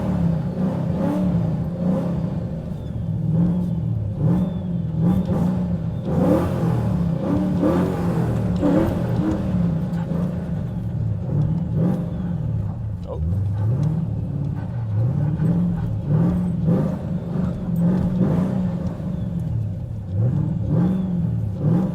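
Pontiac GTO on ice: a steady, loud engine drone with rising revs and rumble throughout, with people talking over it.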